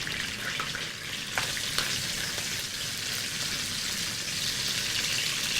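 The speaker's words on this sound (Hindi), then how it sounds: "गार्लिक को आपने खाली सौटे करना है।" Chopped garlic and ginger sauté in a pan, a steady bright hiss of frying with a few soft stirring ticks, close and alone without talk.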